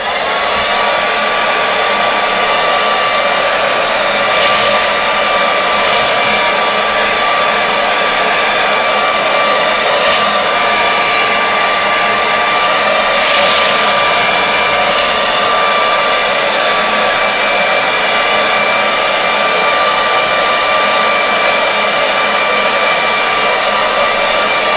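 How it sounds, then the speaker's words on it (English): A hair dryer blows loudly and continuously on a watercolour painting, a steady whooshing roar with a faint motor whine that holds the whole time. "I now need to grab the hairdryer"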